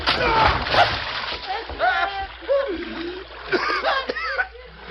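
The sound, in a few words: man tossed into a water trough, splash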